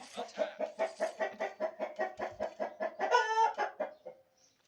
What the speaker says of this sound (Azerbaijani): Xoruz dayan da 2 dəqiqə.